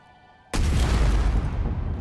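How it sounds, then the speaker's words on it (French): A battery explodes in the video game Space Engineers: after a half second of quiet hum, a sudden loud boom bursts out and gives way to a sustained rumbling roar that slowly fades. "Mon truc a explosé, j'ai eu une explosion un peu plus forte juste derrière."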